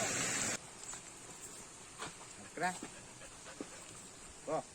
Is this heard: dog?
yes